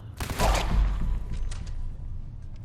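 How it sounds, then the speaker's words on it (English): Gunfire aimed at a ghoul in Fallout 4 at the National Guard Training Yard: a loud, quick burst of shots in the first second, then a fading rumble and faint echoes. "Going to start by shooting that ghoul"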